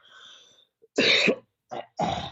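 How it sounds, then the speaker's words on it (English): A person coughs and clears their throat in a few short, harsh bursts separated by brief silences, close and fairly loud, with no speech. "Do you want to cough?"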